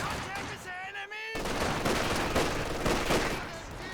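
Long-range small-arms fire in the real-time strategy game Company of Heroes 2, a dense crackle of distant shots and bursts following a brief voiced tone, steady and moderately loud throughout.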